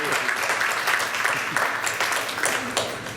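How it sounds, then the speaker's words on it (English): Audience at a university panel event on race and social impact applauds, a full room of continuous clapping with scattered louder claps, some voices mixed faintly underneath. "Let's give ourselves a round of applause."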